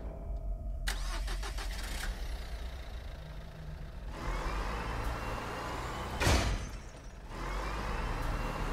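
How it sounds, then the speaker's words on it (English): A car engine in the video game Lorelai is started with a key: a key click, then a cranking whir that catches into a steady idle, with a loud thump partway through and the engine running on afterward. "let's start this car up. With our bloody key."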